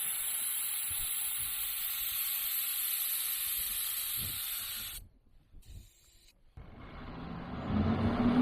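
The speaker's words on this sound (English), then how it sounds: "we're going to take the tyres down to 15 psi" Air hisses steadily out of 4WD tyres being let down to 15 psi for a drive near Nelson, Victoria, a loud continuous rush that cuts out partway through, goes quiet briefly, then resumes.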